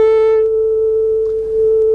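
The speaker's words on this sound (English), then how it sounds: "A mathematician might call it a sine wave." A pure, steady sine-wave tone shown on an oscilloscope plays alone as a clean, loud, unwavering note, with a faint brief overtone fading early.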